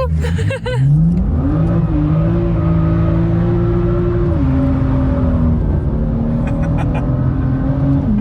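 BMW M2 F87 engine revving and accelerating during a drift session, a loud close exhaust drone rising in pitch, holding, dipping and climbing again for several seconds.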